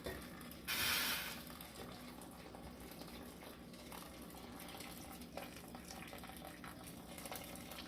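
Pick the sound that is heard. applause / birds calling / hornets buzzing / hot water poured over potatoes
hot water poured over potatoes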